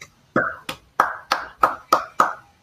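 Seven sharp hand claps in a steady, even rhythm, close and alone with no voices, closing an interview event on women's activism in Mozambique.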